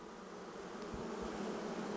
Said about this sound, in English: I'm going to take this and shake those bees down in there